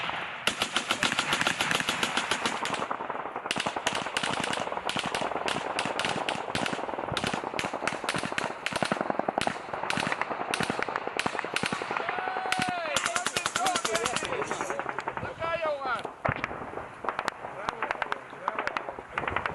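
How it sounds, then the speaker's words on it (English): An AGS automatic grenade launcher fires in long sustained bursts of rapid heavy reports, loud and continuous, with other gunfire mixed in during combat in Ukraine. "We now see them firing an AGS."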